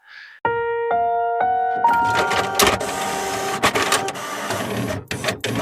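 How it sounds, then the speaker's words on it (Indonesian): A laser jet printer starts up with a rising mechanical whine, then runs with steady motor noise, sharp clicks and clunks as paper feeds through, close and fairly loud. "pas tiba-tiba suara mesin printer laser jet di ujung ruangan nyala."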